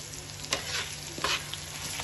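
Dal with eggs, cumin and salt sizzles in a pan while a spoon stirs it, giving a soft, steady frying hiss with a few scraping strokes, close and quiet, with no talking.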